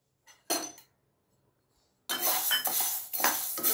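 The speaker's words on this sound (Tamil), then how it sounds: "பற்ற வச்சுட்டு 1 கப்பு பச்சை பயிறு அதை வறுக்க போகிறேன்." Dry green moong dal rattles and clinks against a metal pan as it is poured and stirred, one short burst, then a pause, then a longer busy scraping run close by.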